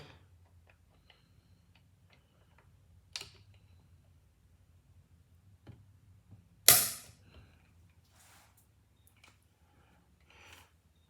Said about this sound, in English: You guys already know I'm using my Wheeler trigger pull gauge.